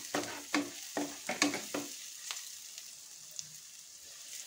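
Onions frying with ginger garlic paste in a pan, stirred in a quick burst of scraping strokes over a soft sizzle, then the sizzle continuing alone, close and moderately loud, with no talking.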